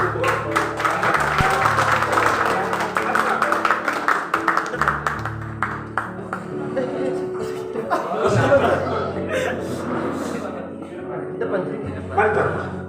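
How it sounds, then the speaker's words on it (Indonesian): An audience claps together at an evening celebration of a priest's 54th birthday. The applause is dense and steady over the first few seconds, with chatter and light laughter running through it and continuing as the clapping fades. "Kita tepuk tangan untuk Tuhan."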